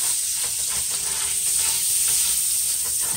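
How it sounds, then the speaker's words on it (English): Garlic sizzles steadily in a hot pan over medium-high heat, a continuous bright frying hiss with faint stirring scrapes throughout, no voices. "so now I'm gonna add my garlic. And my stove is on like a medium high heat"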